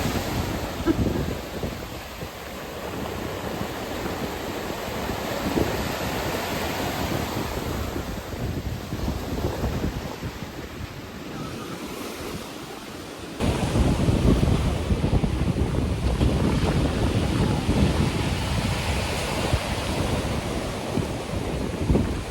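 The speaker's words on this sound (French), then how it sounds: "on est quand même venu voir la mer" Sea waves breaking on the shore at La Réunion, a steady loud roar of surf with wind buffeting the microphone throughout, the wash swelling stronger in the second half; no voices.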